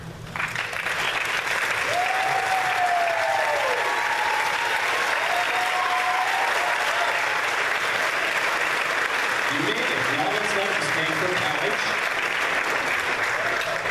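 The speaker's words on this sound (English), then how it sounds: "So, you guys, seniors, owe them a massive round of applause." A large crowd at a high school graduation applauds parents of graduating seniors, steady loud clapping sustained throughout with faint voices underneath.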